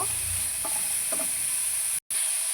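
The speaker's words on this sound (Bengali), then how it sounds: "ভালো করে মোচাটা নেড়ে চেড়ে" Banana flower fries in oil with onions while a spatula turns it. The hissing sizzle is continuous and close, with a few soft scraping stirs and one very brief dropout near the end.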